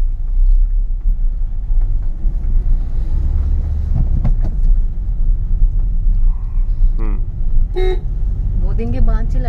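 A Honda Brio with a manual gearbox rumbles steadily while driving, its low engine drone running throughout under wind and cabin noise, with a few horn-like toots near the end.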